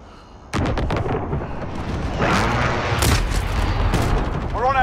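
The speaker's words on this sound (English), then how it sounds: "Enemy precision airstrike," Rolling booms and blasts from a precision airstrike in Call of Duty Modern Warfare (2019) Ground War on Karst River Quarry, loud and near, overlapping continuously with sharp gunfire cracks.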